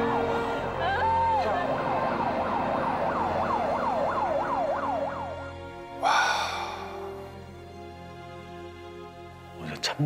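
Wailing emergency sirens from fire engines and ambulances dispatched across Daegu to a subway fire, a rising-falling electronic wail repeating steadily for several seconds, then a louder burst and fading background noise with a final short blast.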